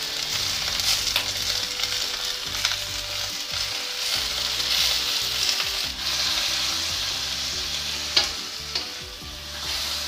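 Cabbage with dried shrimp is stir-fried in a wok, with a constant bright sizzle and repeated scraping and tossing strokes of the spatula close up, one sharper clatter near the end, no talking.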